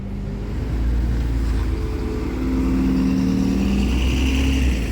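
A bus engine idles and rumbles loudly at Newcastle's Haymarket bus station, a steady low drone that swells slightly as the vehicle works, with no voices over it.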